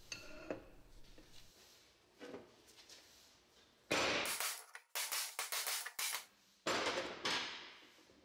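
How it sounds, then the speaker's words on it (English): Hammer blows on a driver knocking bearing cups out of an International Scout II front axle hub, a series of sharp metallic clangs in close bursts, loud in a quiet workshop. "Remove the bearing cups with a suitable driver and hammer."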